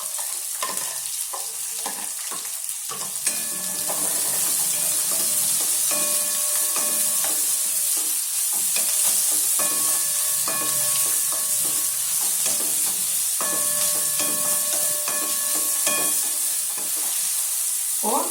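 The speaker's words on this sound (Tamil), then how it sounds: "வெங்காயம், பச்சை மிளகாய், தக்காளி, இஞ்சி, ஜீரகம் போட்டு நல்லா வதக்கணும்." Onion, green chili, tomato, ginger and cumin sautéing in a pan for sprouts paneer, a steady close sizzle with scraping stirs of a spatula recurring throughout, no voices.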